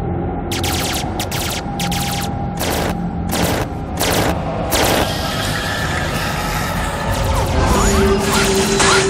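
Animated battle scene with repeated loud bursts of rapid gunfire and crashing impacts, several separate volleys in the first half, followed by a continuing rumble of action.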